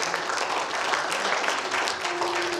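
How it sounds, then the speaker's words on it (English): A church congregation claps hands in praise during a sermon, a dense, sustained burst of applause filling the room with steady overlapping claps. "Give God a hand clap of praise."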